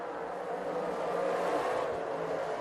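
Race cars at Devil's Bowl Speedway roar together as a short-track heat gets under way, a steady dense engine drone that swells slightly midway, heard from a distance with no talk over it.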